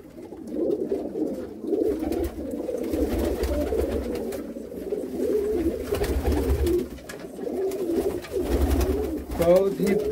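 Golden pigeons, a border-bred breeder stock, coo in low rolling bursts close by, overlapping continuously for the whole stretch with a brief flurry near the end.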